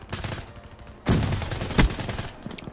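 Gunfire in the Call of Duty Black Ops 3 video game, dense loud bursts of rapid automatic shots with a few sharper single cracks, continuous through the short stretch.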